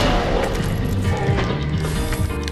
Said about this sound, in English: I'm gonna have to use another grenade, but it's fine.